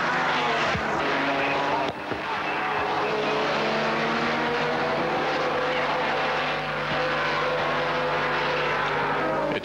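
A race car at Mount Panorama, Bathurst, in 1979, a 2-litre class car running near the top of the mountain, roars past loud and close with a sustained high engine note that shifts in pitch over several seconds, under faint commentary.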